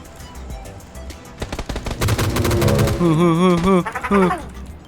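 Gunfire in the battle royale game PUBG: a burst of rapid shots in the middle, followed by sustained tonal tones, mixed with game noise; fairly loud and close.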